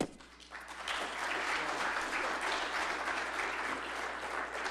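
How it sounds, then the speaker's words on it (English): A crowd at a local government meeting on a north–south rail link breaks into sustained applause, steady and fairly quiet, swelling after a soft start and continuing evenly throughout. "Can you give Franny a round of applause?"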